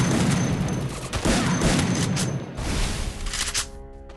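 Gunfire rattles in fast, loud bursts in the Free Fire game, nearly continuous shots with brief gaps, then tapering off at the end.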